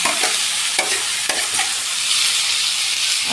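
Boiled cabbage with turmeric being stirred in a hot pan, a steady loud sizzle and frying hiss with several scraping stir strokes near the start, no voices.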